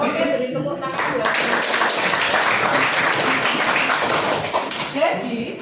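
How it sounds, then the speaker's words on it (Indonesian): Students in a classroom clap together during a science lesson, a lively, fairly loud burst of applause lasting several seconds, with a voice speaking briefly at the start. "Oke, beri tepuk tangan buat."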